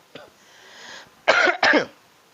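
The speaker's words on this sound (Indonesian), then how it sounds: "Kok jadi batuk ya Bu ya?" Two sharp, loud coughs in quick succession, preceded by a quieter throaty sound and a faint breathy stretch.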